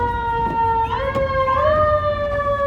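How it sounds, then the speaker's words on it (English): Fire engine sirens wail steadily outside a donut shop in Inglewood, loud and sustained with a rising pitch sweep, over a low rumble of traffic. "Got the fire engines coming."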